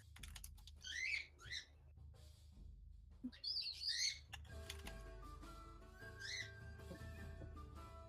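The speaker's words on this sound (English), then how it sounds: "My birds are so noisy tonight." Pet birds chirp and tweet in loud, shrill bursts at night, the calls coming in short clusters alongside steady keyboard typing nearby.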